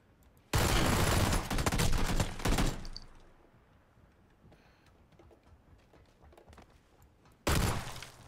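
A loud burst of gunfire in PUBG erupts abruptly, rattles for about two seconds and fades into quiet ambience, then another sharp volley cuts in at the end.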